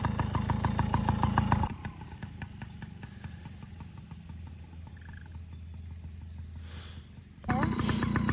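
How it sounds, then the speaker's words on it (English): A kid's motorbike engine idles while warming up, a steady mid-pitched putter that drops to a softer hum in the middle and then picks up louder again near the end. "Remember, you got to warm the bike up"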